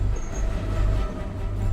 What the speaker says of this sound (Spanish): hoy los trenes la atraviesan con facilidad